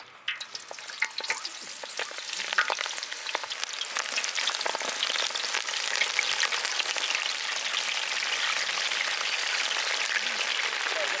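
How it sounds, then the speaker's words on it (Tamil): Spiced mushroom 65 (Kaalan Chilli) pieces deep frying in hot oil, a dense, bright crackling sizzle that starts in a burst and settles into a steady, close bubbling hiss. "அடுத்து நம்ம ஆயிலில் போட்டு பொரிச்சு எடுத்துடலாம்."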